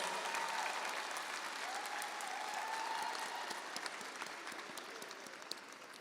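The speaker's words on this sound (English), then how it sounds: "Can we please give her a round of applause for her dedicated service?" Sustained audience applause at a high school commencement honoring a departing board member, a dense wash of many hands clapping that fades gradually toward the end.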